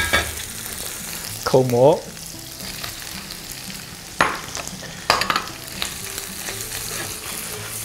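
Shrimp and button mushrooms stir-fried with garlic and scallion in a wok, a steady sizzle punctuated by a few sharp spatula scrapes and tosses, with a short spoken word early on.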